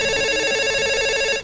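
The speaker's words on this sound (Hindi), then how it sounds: "खामोश खामोश, अम्मी का फोन है।" A telephone rings with a steady, loud electronic trill that holds for over a second before cutting off, heard alone.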